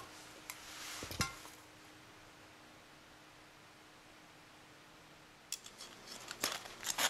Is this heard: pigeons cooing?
no